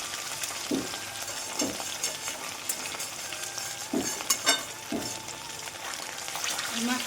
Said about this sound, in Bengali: মাছ ভাজছি এখন এটা